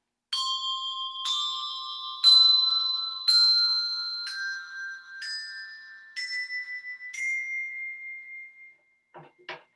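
Octave bells struck with mallets one after another, eight clear ringing tones stepping downward in pitch, each bright strike sustaining briefly before the next, heard alone and close, ending with a short rattling clatter.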